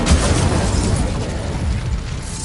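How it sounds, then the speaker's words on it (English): An Incendio fire spell cast in a wizarding video game gives a loud, broad, roaring whoosh of flame. It sustains for a couple of seconds with a crackling texture and no talk. "Incendio!"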